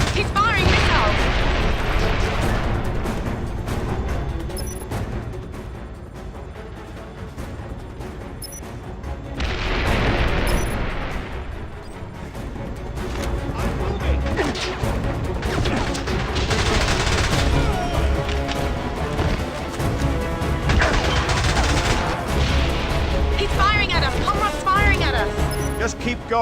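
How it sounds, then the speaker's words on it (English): Missile explosions and heavy gunfire boom through a James Bond 007: Blood Stone chase sequence in loud, dense, continuous rumbling blasts, with voices speaking over the action. "James, he's firing missiles."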